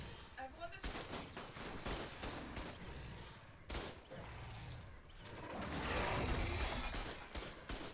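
Turret gunfire in Ark Ascended, rapid bursts of shots and clattering volleys, some moderately loud, mixed with game noise and voices talking over it.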